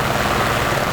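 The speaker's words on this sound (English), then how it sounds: "I hear enemy rotary." Steady thrumming helicopter rotor noise, continuous and fairly loud, with a dense engine roar throughout.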